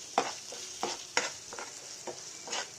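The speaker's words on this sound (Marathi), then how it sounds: "आता आपण ह्याला टाकूया आलं लसणाची पेस्ट, आणि ह्याला मिक्स चांगलं करून घेऊया" Ginger garlic paste stirred into browned onions in a hot pan: a soft steady sizzle broken by about eight sharp scraping spoon strokes at a loose, uneven rhythm, close and with no talking.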